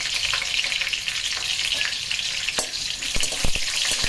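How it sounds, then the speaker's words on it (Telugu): Curry leaves and green chillies crackle in hot oil with mustard seeds for a fish curry, a steady close sizzle with scattered sharp pops and spits toward the end. "ఆవాలు బాగా వేగిన తర్వాత కొంచెం కరివేపాకు వేసుకుందాం"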